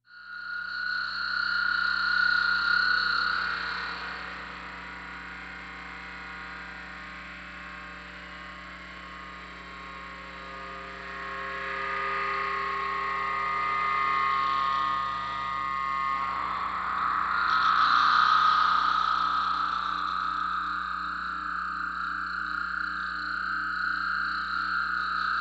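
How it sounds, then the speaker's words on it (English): An internet-based audio feedback loop sent through a spring reverb before being returned: sustained, droning, croaking tones with a steady hum underneath, swelling and shifting in pitch over a long continuous stretch, with no voices. "Before I return the signal to Will, I put it through a spring reverb before sending it back."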